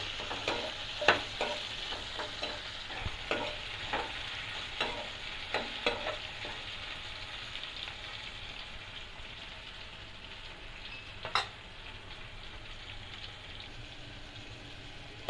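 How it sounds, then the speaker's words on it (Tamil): Tomatoes sautéing in a pan, being stirred, with a steady soft sizzle and a string of light spoon scrapes and taps through the first half, then quieter frying with one sharp clink near the end; no talking. "தக்காளி நல்லா வதங்கணும். லைட்டாக கிளறிட்டே இருக்கலாம்."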